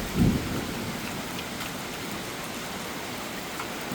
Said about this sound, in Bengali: মারাত্মক লেভেলের ঝড় বৃষ্টি উঠেছে, দেখো জাস্ট।